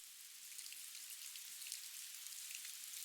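Soft, steady rain falls continuously, a faint even patter and hiss with no voices or other sounds.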